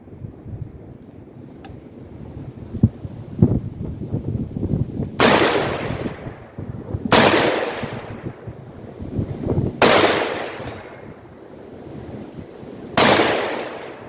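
An AR-type rifle loaded from a 30-round magazine is fired outdoors in cold weather. Four loud, sharp reports ring out a couple of seconds apart over a low, rumbling background.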